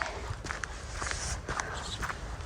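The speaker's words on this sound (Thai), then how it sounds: "เดินออกกำลังกายไปด้วยกันพี่น้อง" Footsteps crunch along a cold, wet forest path in the morning, a steady walking rhythm of crisp steps close by, with no talk over them.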